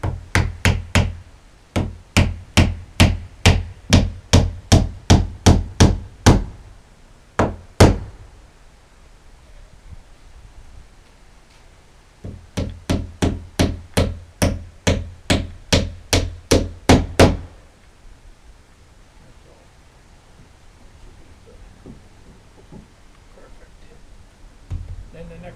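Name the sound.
hammering nails through plywood into a 2x4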